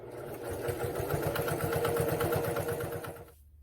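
A sewing machine stitches fabric for a key fob in a rapid, even mechanical chatter, close and steady for about three seconds before stopping abruptly.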